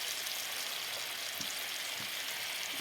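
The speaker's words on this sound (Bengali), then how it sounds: "বন্ধুরা দেখো, আলুটা ভাজা বসিয়ে দিলাম।" Potatoes frying in a wok, a soft, continuous hiss of oil with a couple of faint stirring knocks, quiet and steady.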